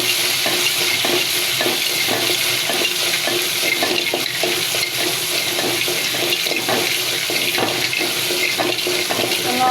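Popcorn kernels stirred in a hot pan give off a steady sizzle with scraping and rattling, continuous and close.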